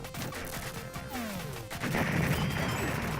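Arcade shoot-'em-up Raiden: game sound effects give way to a bomb blast, a loud dense crash that swells and holds as a sustained roar over the last second and a half, with no talking.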